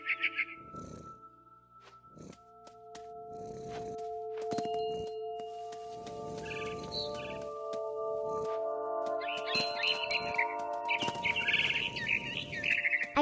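A mama bird chirps and tweets in quick bright bursts in the video game What Remains of Edith Finch, heard alongside a low purring rumble and soft ambient tones.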